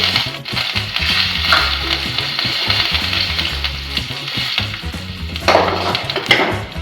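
Steady, crackling sizzle of curry leaves hitting hot oil for tempering, loud and close, with brief sharper pops and spits throughout and no voices.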